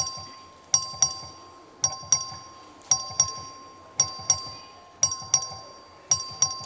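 A Texas House of Representatives voting bell rings out in repeated pairs of sharp, bright strikes, about six double chimes in steady rhythm, each decaying quickly in a quiet room.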